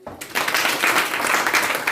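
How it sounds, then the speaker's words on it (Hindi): Students in a Hindi grammar class break into a burst of clapping that starts abruptly and holds steady, dense and fairly loud, with no talk over it. "Very good, Tali बजाइए।"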